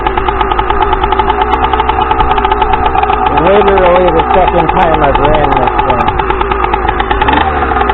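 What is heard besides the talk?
Stihl MS460 chainsaw engine idling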